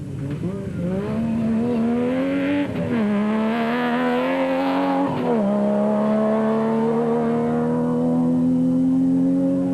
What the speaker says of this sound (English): Nissan Navara was hurtling along on the straights